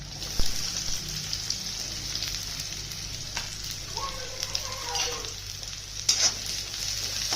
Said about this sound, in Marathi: कांदा पण नरम होईपर्यंत चांगला परतून घ्यायचा